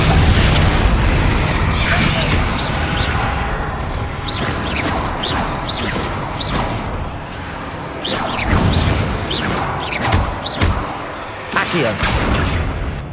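Spell explosions from casting Confringo in Hogwarts Legacy video game: repeated booming bursts and whooshing impacts come in quick succession over dense combat noise, loud and close, with talk mixed in.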